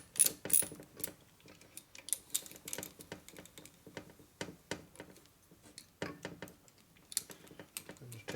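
Fasteners are turned by hand on a 2001 Indian Scout 88ci big-bore S&S engine during a rebuild. Quiet, irregular metallic clicks and ratcheting taps run close throughout with no talk.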